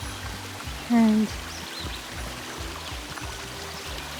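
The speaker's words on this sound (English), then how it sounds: "So we have a little water crossing here." A small stream runs over a trail water crossing near a waterfall on the Appalachian Trail, giving a steady watery wash behind the footsteps, with a brief word spoken over it.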